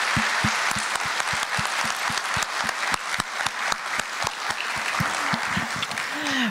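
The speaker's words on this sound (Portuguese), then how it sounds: "Vamos aplaudi-lo novamente?" A lecture audience at a talk on spiritist philosophy breaks into sustained applause for the speaker, a dense, even patter of many hands clapping steadily throughout, with no voices over it.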